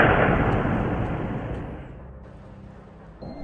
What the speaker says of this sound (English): Tragically, the two gunshots are heard on nearby CCTV.